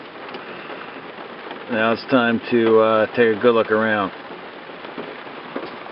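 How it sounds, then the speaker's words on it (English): Heavy pouring rain through the night makes a steady, dense hiss that fills the whole stretch, while someone talks briefly over it midway. "Pouring rain all night"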